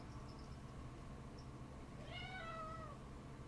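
An indoor house cat lets out one clear, drawn-out meow that rises and then falls, close to the listener but fairly quiet over a faint background hum.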